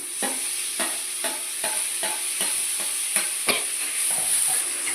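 Tomatoes frying in oil in a pan with curry leaves for an Indian chicken curry, a bright continuous sizzle broken by regular spatula strokes scraping through, roughly two per second, close and clear.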